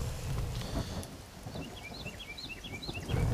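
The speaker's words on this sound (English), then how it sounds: "even our fire that's inside is being put out by the rain" Steady rain in the survival video game The Forest, a soft, even wash of falling drops with faint chirping birds over it, continuous and alone.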